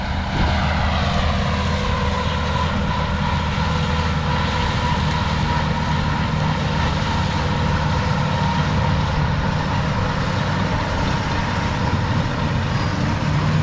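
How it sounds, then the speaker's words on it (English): An Allis-Chalmers 7060 tractor cutting hay on its last lap drones loud and steady, a continuous low diesel roar with a slight rising whine, close by and without any talk. "That is Alice Chalmers 7060."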